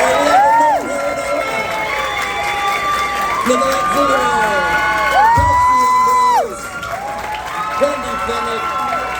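A convention crowd at a Halloween Horror Nights panel cheers, whoops and applauds the panelists, loud and sustained with shouts rising over a host speaking, tapering off near the end.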